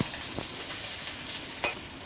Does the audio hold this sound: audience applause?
no